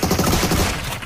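A dense, rapid burst of video game gunfire, loud and continuous for about a second before tapering off slightly.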